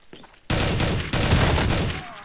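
Bursts of rapid gunfire from the game Counter-Strike: Condition Zero, two loud sustained volleys in quick succession after a brief quiet lead-in, close and dense.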